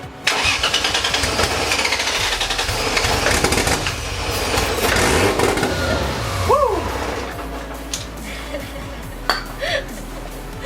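A right-hand-drive converted Lexus IS300 engine cranks and fires up, then runs with a rough, steady rumble. Voices call out in the background and a short rising whine comes near the end.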